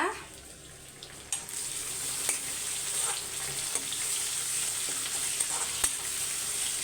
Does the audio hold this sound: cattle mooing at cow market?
no